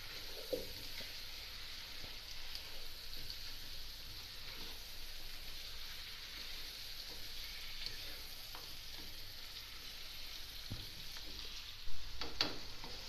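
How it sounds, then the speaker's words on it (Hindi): Chicken and tomatoes browning in a pot, a low, even frying hiss running steadily at moderate distance with occasional soft stirring clicks and one louder knock near the end, no one talking. "और फिर उसको अच्छी तरह भूनेंगे।"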